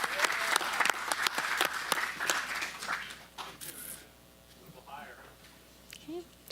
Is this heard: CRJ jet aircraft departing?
no